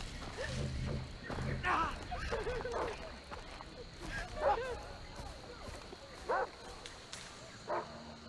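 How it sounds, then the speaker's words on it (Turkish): Dog barking in the video game Far Cry 3, several sharp barks and yips spread across the stretch amid game noise and hoof-like clatter, with voices talking over parts of it. "Abi şu köpek muhabbetini hiç sevmiyorum ya"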